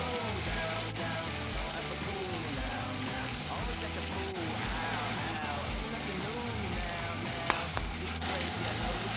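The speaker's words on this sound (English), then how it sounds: "you heard that sizzle" Vegetables and spices, garlic, chilies and herbs, sizzle steadily in a hot pan, a constant crackling fry with a few stirring scrapes and light clinks, close by and without talk.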